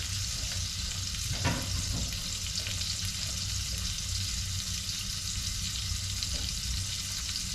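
An African pompano fillet fries on a gas stove at a medium-high flame, giving a steady, close broadband sizzle with a few faint clinks and shifts in the pan.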